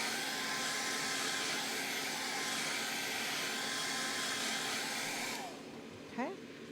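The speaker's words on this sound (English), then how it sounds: "I'm just going to hit it with the hairdryer real quick" A hair dryer blows steadily and loudly over a sandcarved stone, a broad continuous rush that cuts off near the end, followed by a brief faint squeak.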